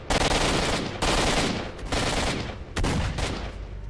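Sustained bursts of automatic gunfire in S.T.A.L.K.E.R.: Shadow of Chornobyl, loud and close, several rapid volleys separated by brief gaps, with no talking.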